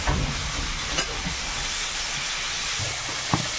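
Ginger garlic paste fries in hot oil in a kadai, a loud, continuous broad hiss with a few faint pops and scrapes mixed in, close up and without any voices.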